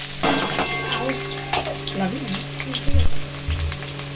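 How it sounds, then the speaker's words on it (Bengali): Sliced onions crackle and sizzle in hot oil with whole cardamom and cinnamon, a loud close frying hiss broken by stirring scrapes and a couple of low knocks from the pan, with a faint voice in the background. "এটা গরম হয়ে গেছে, এলাচ দারচিনি দিয়ে দিয়েছি, অনেক পেঁয়াজ দিয়ে দিলাম"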